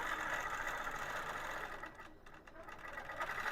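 A longarm quilting machine stitches a Dream Big Dahlia wholecloth panel, giving a steady, fast mechanical whir close by that dips briefly in the middle before resuming.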